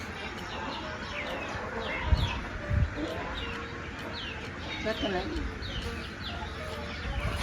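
Chickens cluck and a rooster calls near the camera, with scattered short calls and a couple of louder bursts, while people talk over them throughout.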